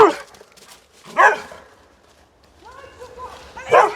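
A dog barks during play outdoors beside a château, with a couple of short barks and a higher whining yelp amid faint background voices.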